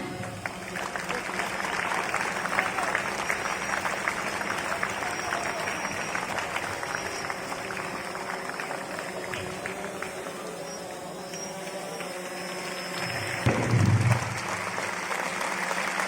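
Sustained audience applause at a school event held for a Hindu-Muslim brotherhood marathon, a steady wash of many clapping hands with a brief louder swell near the end.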